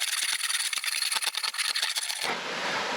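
An old hand planer, around a century old, pushed over wood in a series of quick rasping strokes, close and fairly loud, before the scraping stops and a softer hiss remains.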